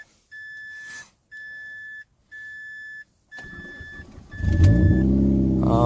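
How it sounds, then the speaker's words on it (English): Five evenly spaced electronic chimes sound, then a Mazda 3 engine, after a clutch swap, cranks and catches in neutral, revving up loudly and close by. "Let's see if she starts up."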